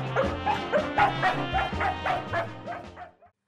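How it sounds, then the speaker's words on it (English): A rowdy farm dog barks in a quick, regular series of about a dozen yaps, some whimpering yips mixed in, near and clear before it stops abruptly. "A barking dog jumps up and down."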